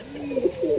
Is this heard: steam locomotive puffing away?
no